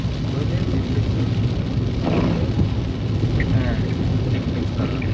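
Rain patters on a moving car over a steady low road rumble, with faint scattered taps against the windshield and no talking.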